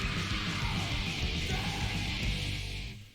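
Deep, harsh death metal screams roar continuously through a played song, dense and loud with heavy distorted instruments underneath, cutting off near the end.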